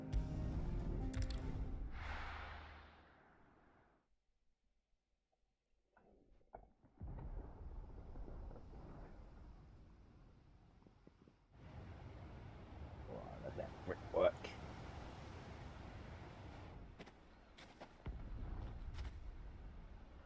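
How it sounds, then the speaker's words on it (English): Deep rolling thunder rumbles through a Final Fantasy XVI game scene, loud at first and then fading, with more low rumbling and game ambience returning in the later seconds. "Sounds like thunder."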